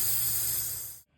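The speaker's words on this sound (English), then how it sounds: "make sure you spray off all your pulleys to get all the coolant and stuff off of them," Spray cleaner hissed onto the pulleys of a 2012–2017 Toyota Camry engine to rinse off coolant, a close, loud continuous hiss that cuts off abruptly near the end.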